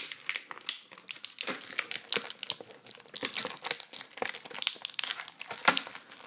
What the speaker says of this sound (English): sorry about all that crinkling,